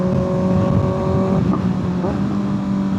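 A steady engine drone from a 2025 Kawasaki ZX-6R motorcycle with a quick rev-matching throttle blip partway through, the revs briefly rising and falling before settling back.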